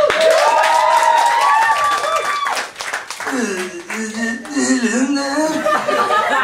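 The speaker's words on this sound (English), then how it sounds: "Your round of applause!" Improv show audience claps and chuckles for a few seconds, the applause mixed with laughter and overlapping talk from performers on stage.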